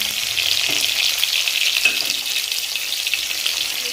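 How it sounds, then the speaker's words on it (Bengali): Slices of pointed gourd fry in hot oil for a vegetarian meal, giving a steady, close, crackling sizzle with faint stirring, continuous throughout and with no voices. "পটলটাও আমার ভাজা হয়ে গেছে লাল লাল করে"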